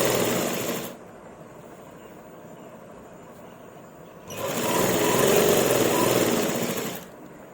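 A sewing machine runs two bursts while stitching a slanted salwar seam, a steady whirring motor for about a second, a pause, then a longer run of roughly three seconds, close and fairly loud with no talking.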